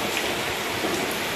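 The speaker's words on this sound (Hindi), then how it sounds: "आज हमारे पास बहुत तेज हो रही है बारिश।" Steady, dense rain hiss, a heavy downpour pattering on surfaces with no voices.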